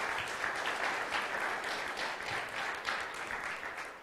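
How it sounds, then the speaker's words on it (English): A church congregation claps steadily together, a dense, even wash of applause that carries all the way through at moderate loudness with no one talking over it. "you can clap for these guys"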